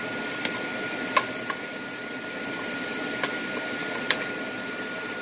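A noisy kitchen exhaust fan runs throughout as a steady, even broadband whoosh, with a few faint sharp clicks on top and no talking.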